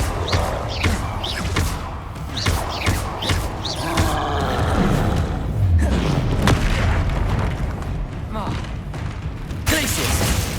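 Spell effects from Hogwarts Legacy gameplay, including the Confringo explosion spell, erupt in deep booms and thuds amid a busy battle, with shouted incantations layered over the fiery blasts and a rumbling background.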